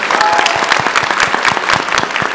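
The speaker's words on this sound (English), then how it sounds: "Round of applause for them." Audience at a PAX East 2024 convention panel breaking into dense clapping, a steady burst of many hands close and loud with a few scattered voices in the crowd.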